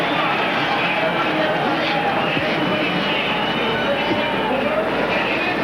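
Several 250cc supercross motorcycles rev together on the starting line at an indoor 1996 Seattle event, forming a loud, continuous engine roar mixed with crowd noise throughout.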